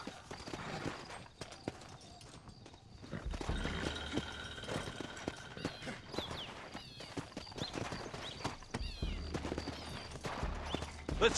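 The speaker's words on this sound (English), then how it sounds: "Looks like Carlos left us some horses." Horses' hooves clip-clop in Red Dead Redemption, a steady run of hoof beats at moderate distance over low rumble, with scattered sharp bursts that may be gunfire.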